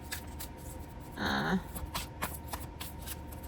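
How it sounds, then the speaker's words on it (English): Playing cards shuffled overhand in quick soft flicks and slides, close up and quiet, with a brief louder burst partway through. "these cards shuffle pretty good overhand"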